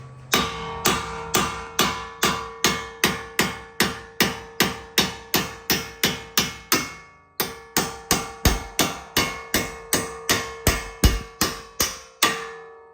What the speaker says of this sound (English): take a hammer and hit the back side of the nut to push the bolt through.